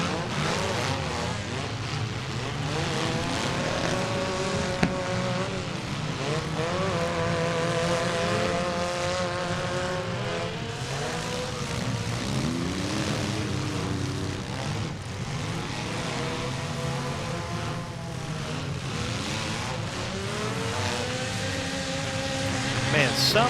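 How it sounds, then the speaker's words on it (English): Demolition derby car engine revving at high RPM during a mini heat, a loud sustained roar with rising and falling pitch sweeps, mixed with other engines and crowd noise, with an announcer talking over it. "somebody is cranking out the RPMs out there"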